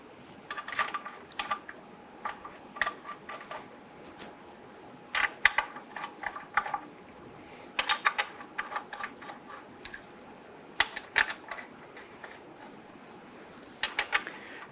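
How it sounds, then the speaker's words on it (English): Lug nuts are threaded by hand onto the front wheel of a 1994-2004 Ford Mustang, giving clusters of quick metallic ratcheting clicks with short pauses between bursts, close and fairly quiet, no talking. "Install your wheel. Go ahead and get your lug nut started."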